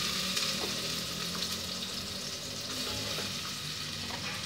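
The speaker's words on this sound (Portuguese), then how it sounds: "Eu coloco a cebola para dourar" Sliced onion sizzles steadily in a hot pan as it browns for a creamy beef stew, a dense continuous frying hiss with occasional soft pops, close and alone without any talk.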